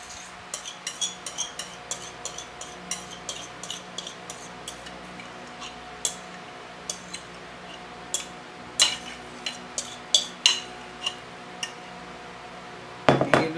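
Butter knife scraping and tapping against a bowl while sweet potato pie filling is cleared out, a steady run of sharp metallic clicks and scrapes, close and clear with no talk.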